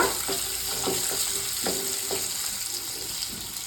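A spoon scrapes and stirs gooseberry chutney cooking in oil in a pan, giving several soft, evenly spaced strokes over a steady low sizzle.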